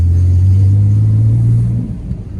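A Ford Falcon with 32 years of wear drives along with a loud, steady engine drone close up, the tone dipping near the end as it eases off.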